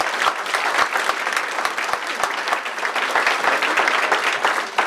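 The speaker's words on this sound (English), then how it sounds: "Let's give Mayor Woolley another round of applause for taking our day" An audience at a city's State of the City presentation breaks into sustained applause, dense clapping that fills the room at a steady, loud level.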